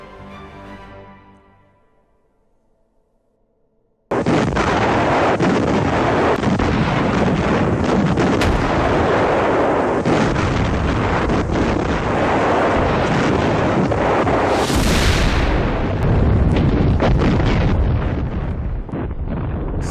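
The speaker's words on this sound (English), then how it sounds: "Then, suddenly, from a distant ridgeline on the right, German self-propelled artillery fire." German self-propelled artillery firing in a WWII battle: a sudden heavy blast breaks a quiet lull, followed by a long, dense, rumbling roar of continuous fire and explosions that stays loud to the end.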